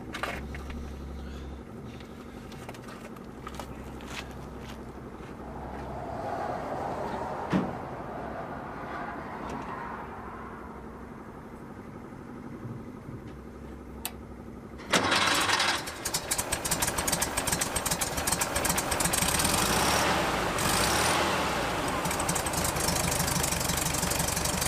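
A 1963 Volkswagen Bus air-cooled engine with a bad exhaust leak runs at a rough idle, then a sharper, louder burst of engine noise takes over partway through and carries on to the end.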